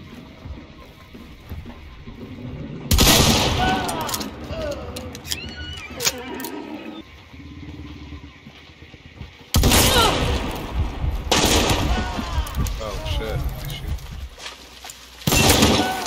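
Gunshots in the video game Hunt: Showdown, three loud heavy reports with echoing tails spaced several seconds apart, with a player talking between them.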